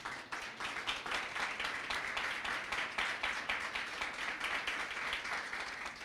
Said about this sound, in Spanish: Quiero que le demos un fuerte aplauso a Dios.